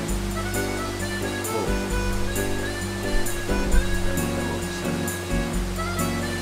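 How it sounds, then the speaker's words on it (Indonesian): Steady ocean waves wash onto a harbour beach in the video game Dark Cloud, a continuous rushing surf under a layered musical soundtrack with no voices. "Pantai pelabuhan ya."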